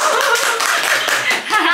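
Dense clapping from the audience at a Muscle Mania 2022 men's physique bodybuilding competition, loud and continuous with some laughter and voices mixed in.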